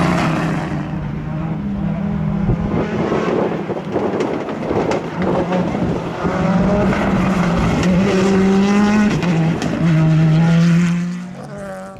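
A rally car races past on a winter series stage at Shackleton in Northern Ireland, its engine rising and falling in pitch through the gears as it approaches loud and close, then fades away.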